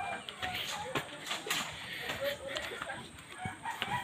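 Chickens on a rural family yard in Agusan, clucking with occasional crowing, in short irregular calls through steady outdoor background noise. People talk intermittently nearby.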